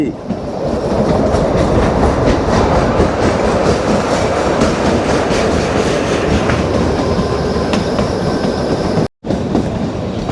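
The Kalka–Shimla toy train rumbles steadily through a mountain tunnel with clickety-clack wheel noise, loud and close, continuous throughout with a brief dropout near the end.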